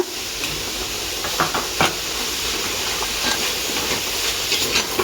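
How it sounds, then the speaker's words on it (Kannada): Carrots frying in ghee for carrot halwa give a steady, dense hiss that runs throughout, with a few brief clicks and scrapes rising above it. No one speaks. "ಇವಾಗ ಕ್ಯಾರೆಟ್ ಸ್ವಲ್ಪವಾಗಿ ಹಾಕಿ ಚೆನ್ನಾಗಿ ಹುರ್ಕೊಳ್ಳೋಣ. ಇನ್ನು ಸ್ವಲ್ಪ ತುಪ್ಪ ಹಾಕಿ ಹುರಿದುಕೊಳ್ಳೋಣ."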